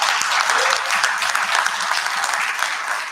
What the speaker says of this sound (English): big round of applause for all three of them